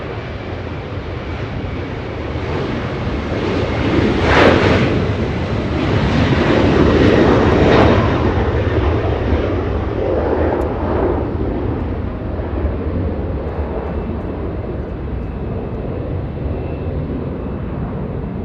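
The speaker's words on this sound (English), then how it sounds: "that one flying to Minneapolis" An airliner bound for Minneapolis takes off from LAX, its jet engine roar swelling loud over several seconds and then holding as a broad, sustained rumble that gradually eases as it climbs away.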